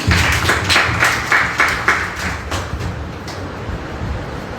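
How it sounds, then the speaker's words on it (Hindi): Audience applause at a Hindi Day poetry recitation event, a burst of clapping that starts strong and gradually thins out, fairly close and steady with no talking over it. "एक बार जोरदार तालियां हमारे दिल प्रकाश की"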